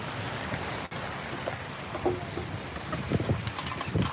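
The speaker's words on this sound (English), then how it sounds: "Yeah, it's raining. It's raining a lot." Heavy rain falls steadily at an outdoor county fair, a dense continuous hiss with faint scattered knocks and rustles close by.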